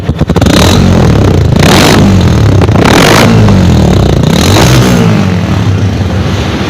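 A motorcycle fitted with a double silencer exhaust runs loud and close, its engine note steady with surges and clattering rasp throughout, no voices over it.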